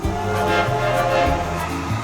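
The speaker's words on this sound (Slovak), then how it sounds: "tak ide ďalší vlak" A passing train rumbles steadily and loudly for two seconds, with sustained tonal hums and a faint horn-like drone over the low wheel noise, no voices present.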